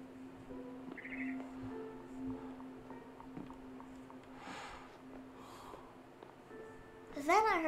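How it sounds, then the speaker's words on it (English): Barn swallow chirping outside a window in the video game What Remains of Edith Finch, a short bright burst of rising and falling chirps near the end, over a steady low hum and a few soft background sounds. "Then I heard chirping outside my window. It was a barn swallow going back to her nest."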